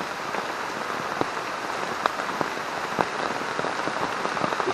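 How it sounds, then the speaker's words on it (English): Steady rain pattering on a surface, with scattered louder drops landing close by; no voices. "I'll get some footage now while it's raining."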